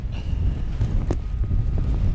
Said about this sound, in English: the wind has certainly picked up